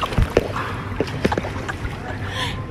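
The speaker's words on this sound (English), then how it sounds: "That's the sound of the pool." Water sloshing and lapping in a pool at a Montego Bay stay, with irregular soft splashes and gurgles close by against a steady background wash, under faint nearby voices.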